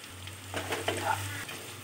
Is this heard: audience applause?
no